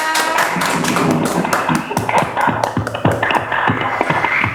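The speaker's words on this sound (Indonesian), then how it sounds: "Tepuk tangan dulu dong buat Feby dan Ella" Audience applause for competition winners Feby and Ella, a loud burst of many hands clapping in quick irregular bursts, close and continuous throughout with no voices over it.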